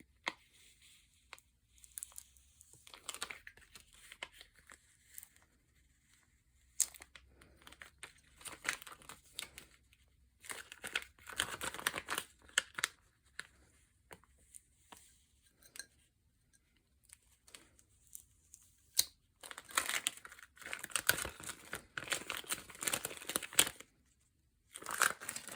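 Color-changing vinyl being peeled slowly off a glass can mug, giving irregular crinkling and tearing bursts separated by quiet pauses, growing denser toward the end, with no talk.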